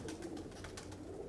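Soft, low cooing of an old pigeon repeats in a gentle rolling rhythm against a faint, steady background hum.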